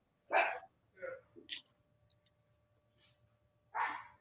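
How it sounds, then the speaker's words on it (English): A pet dog barks indoors in a few short, separate bursts with quiet gaps between them, fairly faint and heard alone. "Now my dog's barking."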